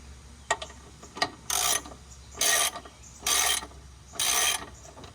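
A wing nut is being tightened on a Mazda 3 rear sway bar install. A couple of sharp clicks come first, then four separate bursts of close, loud ratcheting or grinding, each about half a second long, with short quiet gaps between them. No one talks.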